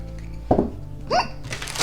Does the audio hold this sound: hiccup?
yes